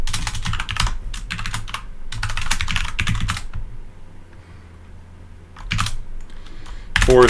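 Computer keyboard keys tapped in quick bursts while a string of integers is entered, close and clear, with brief pauses between clusters and a short spoken fragment near the end.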